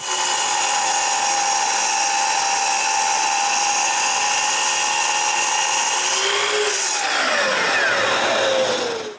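A power saw cuts a wooden vise part to length for a moveable workbench, a loud continuous whine that holds steady, then drops in pitch near the end as the blade slows.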